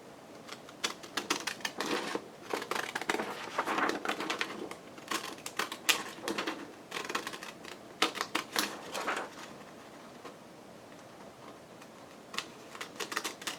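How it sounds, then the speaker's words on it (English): Cheap decorative-edge scrapbooking scissors snip through fabric trim in quick bursts of crisp, clicky cuts, close and fairly loud, with short pauses between runs of snips. "I'm going to cut it with some decollete scissors"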